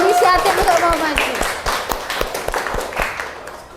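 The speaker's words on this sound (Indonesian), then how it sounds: "Beri tepuk tangan" A classroom of students claps for a volunteer heading to the front, loose scattered hand claps that thin out into a few sharp individual claps, with someone speaking over the start.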